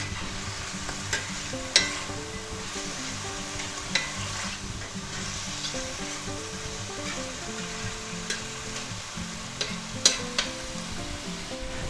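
Chicken and vegetables sizzle steadily in a pan while a utensil scrapes and taps now and then, a close continuous fry with occasional sharp clinks.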